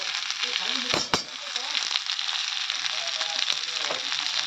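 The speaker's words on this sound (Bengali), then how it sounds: "আর দিয়ে দেবো এখানে 1/2 চামচ আদা রসুন বাটা" Chili powder, turmeric and ginger-garlic paste fry in hot oil in a pan for a fish curry, giving a steady close sizzle with a couple of sharp spatters near the start, alone without talk.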